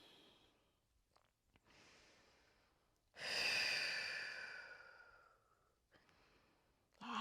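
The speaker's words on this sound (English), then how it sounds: "We breathe." Deep breathing during a yoga flow, close and quiet: a soft inhale, then a long, loud audible exhale that slowly fades, followed by another breath beginning at the end.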